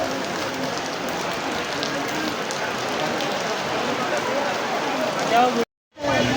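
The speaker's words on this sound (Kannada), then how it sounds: "ಮಳೆಯು ಬಾರದೆ ನೋಡಿ, ಮಳೆ ಹೆಂಗೆ ಬರ್ತದೆ" Heavy rain falling on a city shopping street in Chickpet, a dense steady hiss of drops on the road throughout, broken by a brief cut near the end, with people talking under it.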